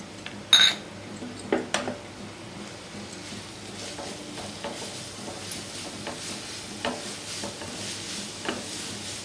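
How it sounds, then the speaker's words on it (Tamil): Grated carrot sautés in ghee in a pan and is stirred, giving a soft sizzle under scraping and clinking utensil strokes. A few sharper knocks come near the start, then quieter steady stirring follows. "கேரட் நல்லா வதக்கிக்குங்க."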